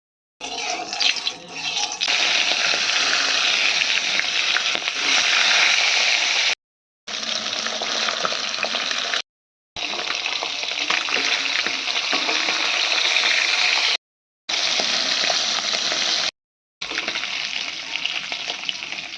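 Bata fish sizzle hard in hot oil in a wok, a loud, steady frying hiss that breaks off briefly several times and then resumes.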